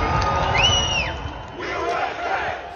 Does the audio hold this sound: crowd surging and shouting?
yes